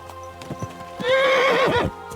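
A horse in Kingdom Come: Deliverance II gives a loud, clear neigh after a few soft hoof clops, with nothing else heard.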